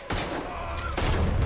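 A burst of gunfire erupts in the video game Red Dead Redemption 2, rapid overlapping shots cracking loudly and close in a dense fusillade, with a second heavy volley after a second.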